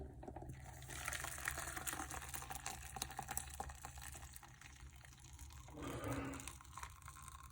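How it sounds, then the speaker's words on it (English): Tea being strained and poured into a cup, a steady trickle of liquid with a brief fuller splash near the end, close and quiet with no talking. "I'm ready to strain my tea."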